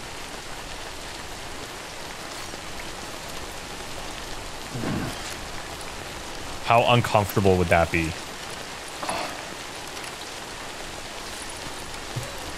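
Steady rain in the video game Death Stranding hisses evenly throughout, with a person speaking briefly over it partway through.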